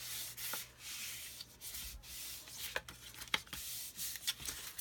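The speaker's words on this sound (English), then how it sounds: "And I just kind of burnish it just a little bit." Paper folded along a score line is burnished with firm rubbing strokes, giving soft, close, irregular scraping swishes with no talking.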